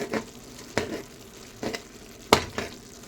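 Food stirred in a frying pan while making patishapta, with a steady sizzle broken by several sharp scraping strokes of the spatula, close and fairly loud, no talking.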